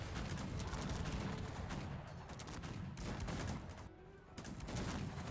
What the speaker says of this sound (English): Ooh, that was a good cannon volley on the army of Starman.